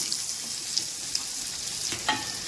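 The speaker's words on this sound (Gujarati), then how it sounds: "અંદર આપણે કેરી જે સમારે આ રીતે ટુકડા કર્યા છે એ આપણે અંદર એડ કરી દેવાના છે" Raw mango pieces fry in hot oil with cumin seeds for a Gujarati sweet-and-sour raw mango dish. The sizzle is steady and hissing, with a few faint pops and a brief stirring scrape near the end.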